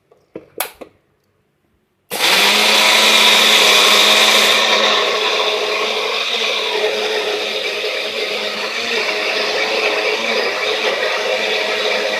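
After a couple of faint clicks and a short silence, a blender roars to life grinding ginger, mint and lemon with water, running loud and steady to the end.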